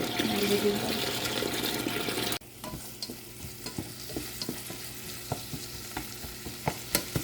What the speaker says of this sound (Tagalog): Ginigisa yung ano guys, yung onion, white onion para sa spinach.